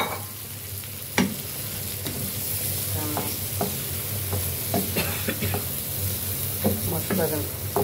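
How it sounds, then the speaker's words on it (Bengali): Marinated country chicken frying with onion, garlic and masala in a village-style pot, a dense, close sizzle with repeated stirring clatters and scrapes, and faint talk now and then. "এখন আমি দিব ম্যারিনেট করা মাংস"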